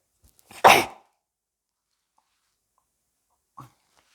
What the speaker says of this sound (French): Désolée, j'ai éternué